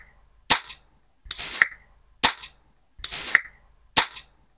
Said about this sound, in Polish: A otwarcie tej czarnej, pięknej puszki brzmi tak.